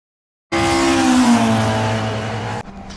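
A historic race car from a Mini and Jaguar field at Brands Hatch roars past close by, its engine note loud and falling in pitch as it goes, then cuts off abruptly into quieter trackside ambience.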